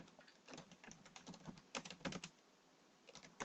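A search typed on a computer keyboard, with quick close key clicks in uneven runs that come in a dense burst midway, then a short pause and a few final taps.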